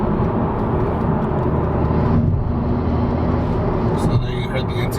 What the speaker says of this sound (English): Heard the intake kick in for the turbo spooling.